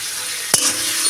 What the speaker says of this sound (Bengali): ভালো করে এবার মিশিয়ে চিকেনটাকে ভেজে নেব।